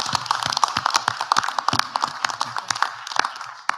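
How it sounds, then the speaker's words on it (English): People at a township board of education meeting applaud a football team, a moderate, uneven patter of individual claps from a modest-sized audience, close and fairly busy throughout. "Let's give them all a round of applause."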